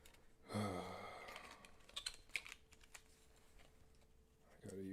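Keys clack on a computer keyboard in a brief burst of typing, close and moderately quiet, with a sigh or breath heard alongside.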